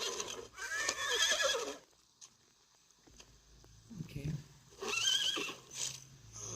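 A horse in the video game CrisisX neighs loudly in two whinnying bursts separated by a quiet gap, with soft hoof clatter and a voice talking in between.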